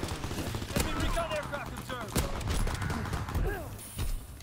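Gunfire in the Call of Duty video game after switching to sniping, with several sharp shots at irregular intervals amid busy game sounds and background noise.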